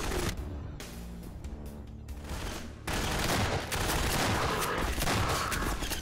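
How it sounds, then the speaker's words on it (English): Dense, loud gunfire from the video game Half-Life 2: Episode One, with sustained bursts of automatic weapons and shots layered into a continuous barrage that grows heavier partway through. "Oh god, lots of bullets."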